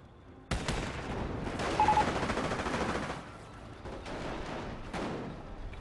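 In a village siege battle game, a Nebelwerfer rocket launcher fires, a sudden loud salvo that opens into a long roaring whoosh, followed by further scattered firing and distant blasts.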